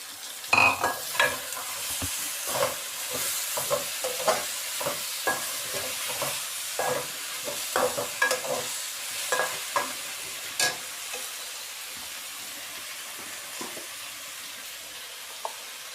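Small tomatoes frying in a pan during a tinda recipe, a close soft sizzle broken by repeated stirring scrapes and clacks of a spoon, the stirring fading toward the end, no speech.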